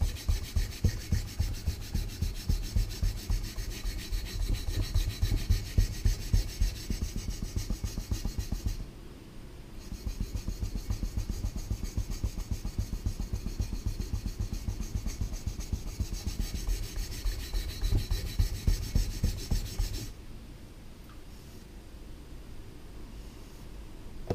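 An axe or carving tool blade is sharpened on a Japanese bench stone, a close, steady rhythmic rasping of back-and-forth strokes that pauses briefly twice.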